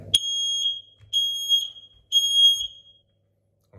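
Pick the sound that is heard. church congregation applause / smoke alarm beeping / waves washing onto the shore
smoke alarm beeping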